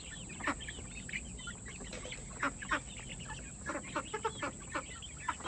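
Hungry chickens cluck in a run near a feeder, giving a steady stream of short, close clucks and squawks in irregular bursts over a soft background hum.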